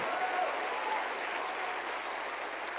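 A room full of listeners claps steadily in sustained, even applause, a dense wash of hand claps at moderate distance with no voices standing out.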